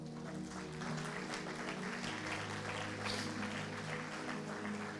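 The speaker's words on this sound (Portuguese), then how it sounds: "Aplauda o Senhor por isso" Applause from a church congregation, a dense, steady wash of clapping that carries on for several seconds at a fairly constant level, with a low hum or music running underneath.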